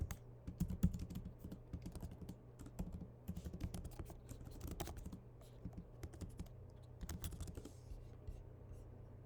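Rapid clicking of keys on a computer keyboard, typed in quick irregular bursts with brief pauses, fairly faint and close, over a low steady hum.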